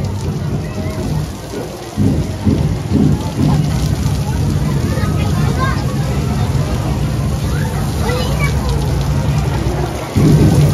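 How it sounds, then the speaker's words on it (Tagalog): Heavy rain pours onto a grandstand at an outdoor street dancing festival, a dense continuous roar heard from underneath with low rumbling, a brief dip, and faint crowd babble in the background. "Yung nakikita lang talaga namin dito, guys, yung napakalakas na ulan."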